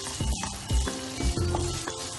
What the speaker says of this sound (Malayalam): ചിക്കൻ ഇവിടെ ഏകദേശം ഫ്രൈ ആയിട്ട് വന്നിട്ടുണ്ട്.